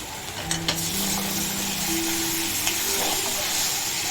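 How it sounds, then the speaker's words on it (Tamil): Chicken pieces are stirred in a hot cooking pan, giving continuous sizzling and frying with a few sharp clinks of a utensil against the pan. A faint tonal hum sits underneath and no one speaks. "சிக்கனை சேர்த்து நம்ம லைட்டாக கிளறி விட்டுக்கலாம்."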